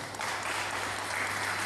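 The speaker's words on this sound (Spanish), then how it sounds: "Fuerte los aplausos para Robert." Audience at a CD launch event in a hall, Casona Julio Correa, giving a soft, even round of clapping, many hands blending into a continuous faint patter.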